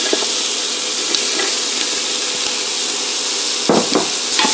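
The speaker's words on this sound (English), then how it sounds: "What carrot, celery, and onion doesn't smell good when it's caramelizing in the bottom of your soup pot" Diced carrot, celery and onion sizzle and caramelize in the bottom of a soup pot, a steady loud frying hiss running throughout with a few brief clatters and stirring scrapes near the end.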